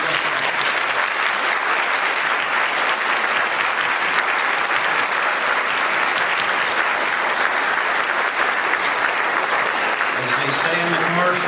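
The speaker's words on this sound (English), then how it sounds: "Please join me in giving them a round of applause." Audience applause for school board candidates at a Greenwood School District 50 candidate event, steady and dense for more than ten seconds, with a voice starting to speak near the end.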